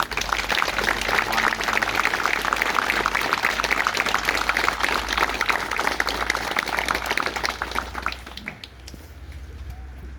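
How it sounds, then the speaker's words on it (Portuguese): A crowd gives warm applause for veterans at a monument ceremony in Vilar Seco, dense clapping running steadily for several seconds before thinning out near the end. "peço um caloroso aplauso para os nossos ex-combatentes"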